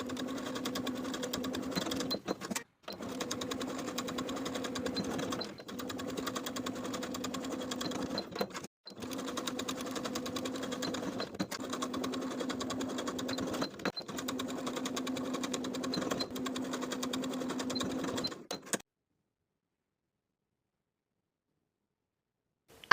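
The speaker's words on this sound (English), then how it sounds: "Now I'm going to edge stitch each of the pleats in place as close to the folded edge as I can get" A sewing machine edge-stitches fabric skirt pleats in three long, even runs of rapid mechanical whirring, separated by brief pauses, before falling silent.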